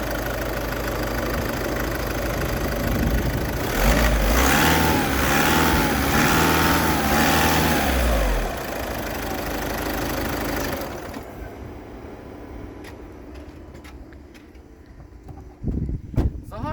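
A diesel car engine runs loudly and steadily at idle with a rough, knocking rumble, then cuts off, leaving quiet handling noises.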